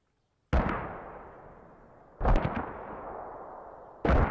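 Mortar rounds landing in the military shooter game Squad: three heavy booming impacts at roughly even intervals, each a sharp blast followed by a long rumbling decay, loud and fairly close.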